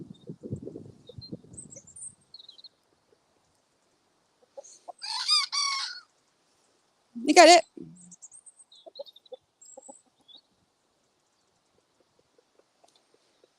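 A backyard rooster makes soft rhythmic clucks and calls, then a loud crow, with quieter clucking afterward between long silences; a person speaks briefly nearby.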